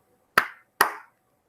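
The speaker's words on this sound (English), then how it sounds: "please clap two eighth notes" Two crisp hand claps land about half a second apart, sounded as two eighth notes within one beat. They are close and even, with short decays and silence around them.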